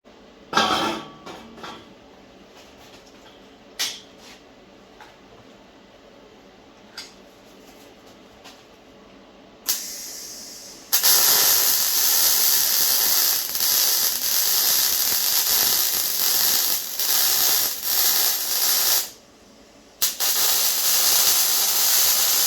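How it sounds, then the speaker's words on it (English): Arc welding on a steel bash bar for a vehicle bumper: a loud, steady crackling hiss that starts after a few quiet clicks, runs continuously, breaks off briefly, then resumes. "So yeah, I'll crack on to welding."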